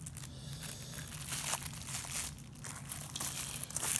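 Plastic packaging being taken off a ZWO 60mm guide scope, heard as continuous close crinkling and rustling with faint handling noises, no voices.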